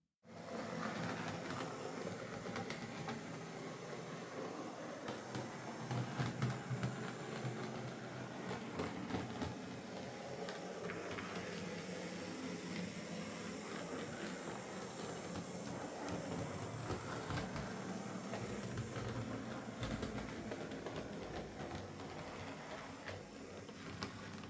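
A Hornby B17 model locomotive, serviced with a new motor brush and its smoke generator disconnected, runs steadily along model track with a continuous mechanical whirr and rhythmic ticking of wheels over rail joints, alone and close by.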